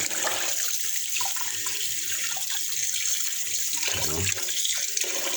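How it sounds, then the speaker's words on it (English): Rice being washed under running tap water in a home kitchen while cooking Jamaican curry pork: a steady, fairly loud rush of water into a sink, with brief splashing and stirring sounds partway through and no talking. "So yeah, wash the rice and we put on."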